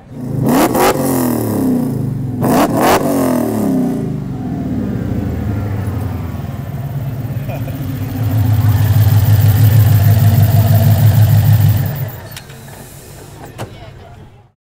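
A 1970 Plymouth Road Runner at a classic car show idles with a deep, loud rumble and then revs hard for several seconds before settling down, with people talking near it.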